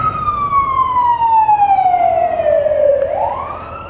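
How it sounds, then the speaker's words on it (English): An emergency siren wails loudly and close, its tone sliding steadily down before sweeping back up. "I can hear sirens."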